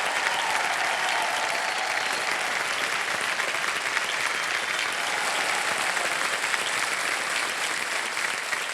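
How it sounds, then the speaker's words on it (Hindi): A studio audience applauds during a televised quiz game show, a dense, loud, sustained wash of clapping from a large crowd that holds steady throughout without talk. "तालियां बजती रहे"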